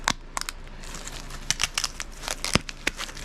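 Gooey 3M adhesive tape being ripped apart during the unboxing of an LED sign: a close series of sharp sticky crackles and tearing snaps in irregular bursts, without talk.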